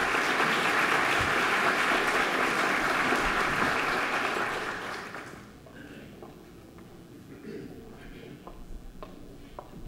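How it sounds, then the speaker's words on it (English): Audience applause for young singers at a committee meeting, a dense steady clapping that holds loud for about five seconds, then fades to scattered rustling and faint footsteps. "Please give them a round of applause."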